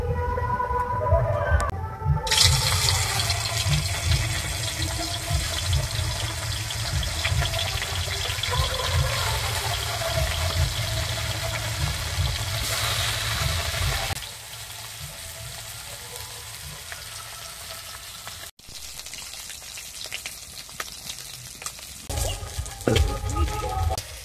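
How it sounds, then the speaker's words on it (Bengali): Shol fish frying in hot mustard oil in a kadai, a loud continuous sizzle and crackle that later settles to a quieter, steady fry with occasional bubbling pops. "তেল গরম হয়ে গেছে, মাছগুলো দিয়ে দেব।"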